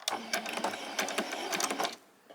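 A home sewing machine runs a short back stitch while sewing the fly of summer shorts, giving a quick rattling burst of rapid needle strokes that stops abruptly, close and clear with no talk.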